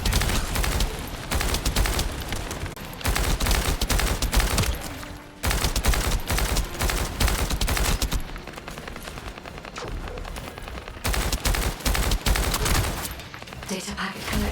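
Sustained rapid gunfire from a long boss fight in the looter shooter The First Descendant, loud and dense with bursts that pause briefly and resume, explosive booms mixed in, and game effects layered over it.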